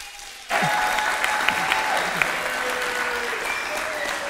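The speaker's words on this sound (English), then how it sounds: "Let's have some applause for Mayor Sandy Genis." Applause at a city council and mayoral candidates forum breaks out suddenly and holds as steady, fairly loud clapping from the audience, with voices murmuring faintly beneath it.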